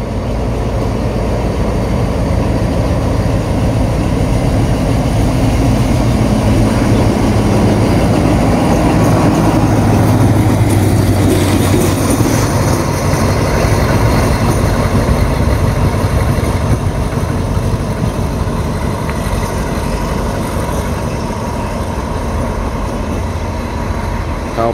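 An Alstom diesel locomotive on an eastern line rumbles at a rail switch, a loud, continuous low engine drone that swells as it arrives and then settles into steady idling, heard alone without talk.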